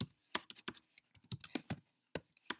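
Keys on a computer keyboard are tapped in short irregular bursts, each keystroke a sharp distinct click with brief silences between, close and fairly quiet.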